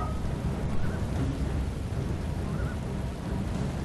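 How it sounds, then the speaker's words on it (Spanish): Rain falls in a battle in the video game Rome Total War, a steady low rushing wash with faint rumbling underneath, continuous and even throughout. "Está lloviendo en el juego"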